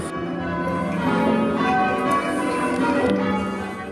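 A team of ringers sounds a full peal of church bells, the overlapping strikes blending into a dense, sustained, resonant wash that carries steadily and loudly throughout with no voices.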